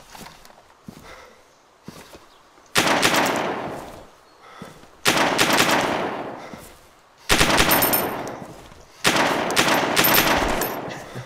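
Gunfire in the survival video game DayZ, several loud bursts of automatic fire in separate bursts, each ringing out and decaying, with quieter thuds and movement sounds in between.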